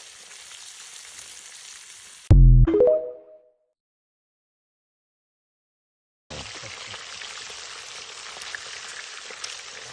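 Carp pieces frying in hot oil on a saj pan, a crackling sizzle that cuts out midway, leaving a few seconds of silence before the sizzling returns.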